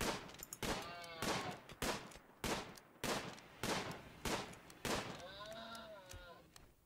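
Gunfire in RimWorld, a series of sharp, evenly spaced shots at roughly half-second intervals, moderately loud with short decays, a faint tonal game sound near the end.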